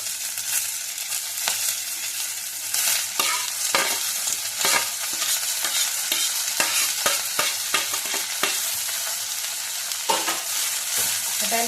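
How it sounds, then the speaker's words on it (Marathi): Fenugreek leaves dropped into an onion tempering for a simple homemade phodnichi methi, a constant bright sizzle with frequent utensil scrapes and taps of stirring, close up and steady, with no voices. "आता ही मेथी आपण त्याच्यात टाकू।"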